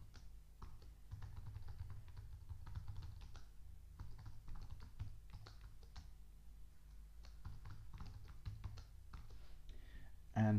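Computer keyboard typing as a username and password are entered, with quick, close keystrokes in uneven bursts and short pauses, steady and clear, with no talking over them.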